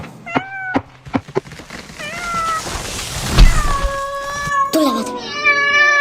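Several cats meow and yowl in drawn-out, rising and falling calls, loud and close, overlapping at times, with a thump and some rustling between the cries.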